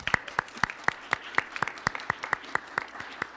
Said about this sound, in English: can we please give Stephanie Jensen-Moulton our undying gratitude and a huge round of applause